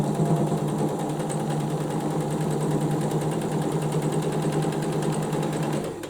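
A sewing machine runs steadily, stitching the seam of a simple beginner's cushion cover, with a constant close, loud mechanical whir and rapid needle rhythm that cuts off at the end; no one speaks.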